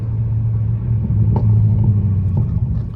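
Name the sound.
loud 500 hp car engine, Scat Pack or Hellcat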